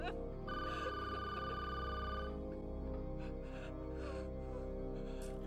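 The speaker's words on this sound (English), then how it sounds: "Pick up the phone!" A telephone rings in repeated bursts of electronic trilling during a tense scene in a crime drama episode, heard over a low background score.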